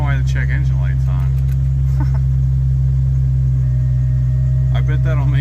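A high-mileage five-speed Jeep XJ engine idles around 1100 rpm with a steady, loud, continuous low drone, while people talk over it in a garage.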